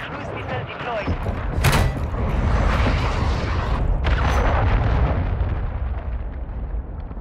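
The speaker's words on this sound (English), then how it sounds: "Friendly cruise missile deployed." Cruise missile strike in Call of Duty Modern Warfare III: a loud, sharp detonation followed by a long rumbling roar of blasts, a second crack midway, then the boom slowly fading out.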